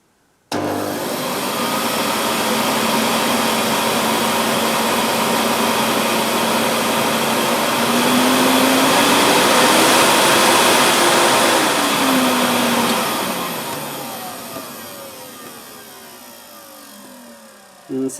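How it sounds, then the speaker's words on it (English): A 1998 Hoover Alpina SC211 vacuum cleaner, running with its cover off, whirs loudly and steadily at close range for a long stretch, its motor pitch drifting slightly before it winds down near the end. "I'm going to turn it on here"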